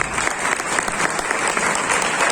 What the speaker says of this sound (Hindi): मैं चाहता हूं आप सब अपने लिए जोरदार तालियां बजाएं।